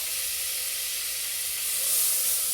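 A generous amount of butter sizzles in a pan over medium-low heat, a steady close hiss that swells slightly toward the end, with no talk.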